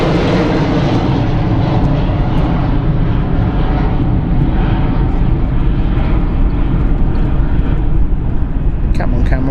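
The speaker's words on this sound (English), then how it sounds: "Look at the difference in the takeoff distance with the E190," An Embraer E190-E2 jet airliner taking off at London City Airport gives a loud, sustained engine roar with a broad rumbling hiss that holds steady throughout, while a voice talks over it.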